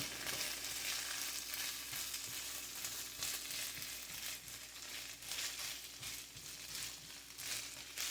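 Leftovers sizzle in a pan with a soft, steady frying hiss and intermittent stirring scrapes, quiet and close, with no one speaking.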